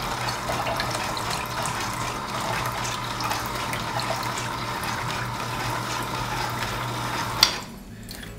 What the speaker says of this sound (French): On met de l'eau dedans.